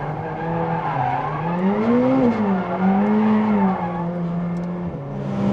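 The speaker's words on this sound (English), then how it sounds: "The turbos just whoosh, fling you down there." McLaren 765LT at speed, its engine droning loud and steady with a rising, falling pitch as it pulls hard, a continuous close-up roar with no voices over it.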